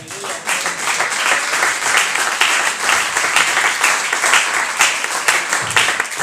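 Applause from a church congregation, many hands clapping at close range in a steady, lively burst that carries through the whole passage.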